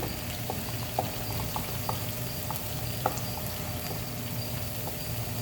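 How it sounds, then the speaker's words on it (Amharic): Ginger and garlic fry in a pan with a splash of water just added, giving a steady close bubbling sizzle with scattered small pops throughout. "ትንሽዬ ውሃ ጠብ አደረኩበት"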